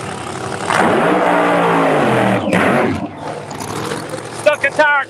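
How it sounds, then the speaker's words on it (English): Race cars doing burnouts on a drag racing track: a loud, rough engine roar with screeching tyres that builds, holds, then fades, followed by a few sharp bursts near the end, with voices partly heard. "we've been asked to stay off the racetrack while these guys are burning out"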